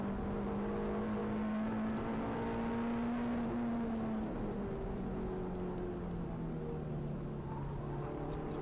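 Peugeot 106 engine droning steadily from on board at Goodwood Motor Circuit, a loud continuous tone that pitches down slightly as the car comes out of a chicane in third gear.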